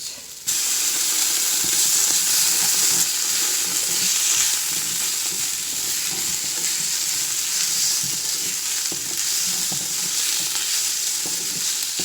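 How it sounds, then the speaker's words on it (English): Curry paste being stirred into a hot frying pan, with a loud continuous sizzle and hiss and light scraping from the stirring. No one talks. "I'm going to want to stir in my curry paste"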